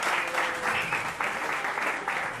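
Live audience in Santiago de Chile applauding Chilean people, a dense, steady wash of many hands clapping at moderate distance, sustained throughout without pause.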